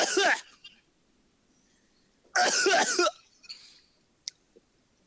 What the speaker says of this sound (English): I hear him coughing